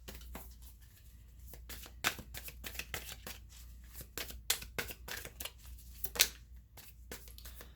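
Tarot cards being shuffled by hand in a series of soft, papery riffles and flutters, close and quiet, with uneven bursts and short pauses between them.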